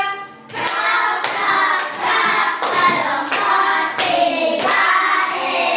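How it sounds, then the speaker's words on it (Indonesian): Classroom clapping for a student group: a few hands beating out a rhythmic pattern of sharp, close claps in repeated bursts, loud and clear with no talk. "Oke, tepuk tangan dulu untuk kelompok 3."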